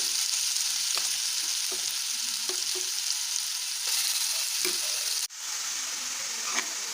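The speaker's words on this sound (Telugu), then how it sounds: "నెయ్యిలో మొత్తం ఫ్రై చేసుకోవాలి." Grated carrot frying in ghee gives a continuous bright sizzle, with soft stirring taps scattered throughout and one abrupt knock that briefly dips the sound.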